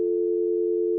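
Phone busy-signal tone, a steady, pure, continuous hum that is moderately loud and heard alone with no voices.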